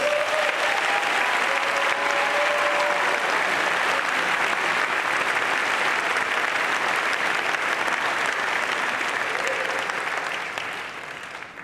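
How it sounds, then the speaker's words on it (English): Audience applause at a Louisville Collegiate School graduation ceremony, a loud dense wash of clapping from a large crowd that holds steady for about ten seconds before fading at the end. "Let's give them a round of applause."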